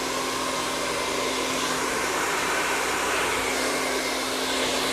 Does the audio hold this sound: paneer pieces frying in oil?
no